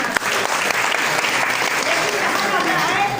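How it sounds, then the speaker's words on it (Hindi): A hall audience of young people, women and men claps loudly, a dense, continuous burst of applause that stays strong for the whole stretch. "चलिए आप लोग एक बार जोरदार ताली हो।"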